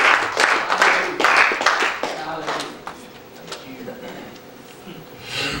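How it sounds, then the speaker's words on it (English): A church congregation claps hands in a quick, uneven patter that is loudest at first and thins out, with voices murmuring underneath. "as you're clapping your hands unto the Lord"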